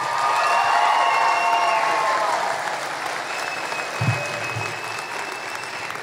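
An audience applauds at a high school graduation ceremony: loud, sustained clapping from a large crowd that fades slightly toward the end, with a brief thump partway through.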